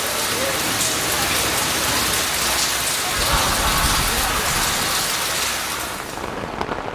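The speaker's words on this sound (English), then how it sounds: "Five hours later, it's still raining." Heavy rain pours steadily at an outdoor concert, a dense, loud hiss of drops on surfaces that continues without letup and eases slightly near the end.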